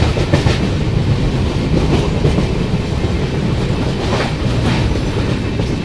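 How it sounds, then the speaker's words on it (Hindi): A Janmabhoomi Express hauled in push-pull formation rumbles loudly across a bridge as it speeds up, with steady clickety-clack of wheels over rail joints and continuous heavy rolling noise throughout. "अभी देखो बढ़िया स्पीड अप कर लिया है ट्रेन ने"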